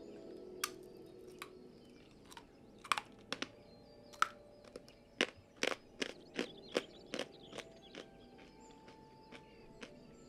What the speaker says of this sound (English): I have almond crisp bread, which is like, do you want like crunch, like a quick crunch ASMR before I mute it?